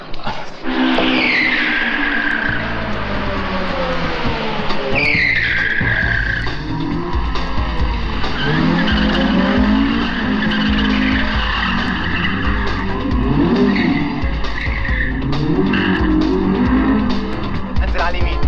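A car drives hard with loud tire squeals and skidding screeches over a revving engine, close and sustained, with people talking and laughing underneath.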